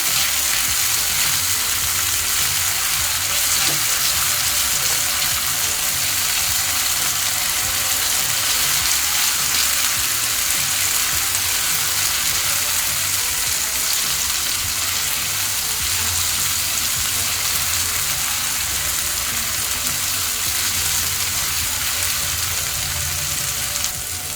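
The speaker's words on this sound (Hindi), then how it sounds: "इसे भी हमें 1 मिनट तक के अच्छे से भून लेना है।" Steady, loud sizzling of ginger garlic paste frying in hot oil, constant crackle throughout with no talking.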